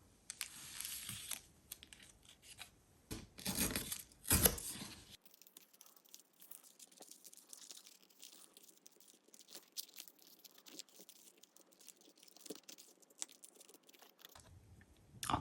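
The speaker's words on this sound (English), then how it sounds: "I think I need to distress and tear this up a little bit." Paper is torn and roughed up by hand to distress it for a mixed media bird card, with close crinkling, ripping and scratchy bursts loudest in the first five seconds, then quieter intermittent rustling.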